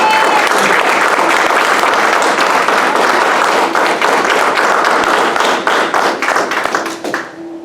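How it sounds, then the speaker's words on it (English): Sustained applause from an audience at a graduation ceremony for a class of military civil engineering graduates: dense, steady clapping that fills the room close by and thins out near the end. "Let's give a round of applause to our newest Dirt Boys."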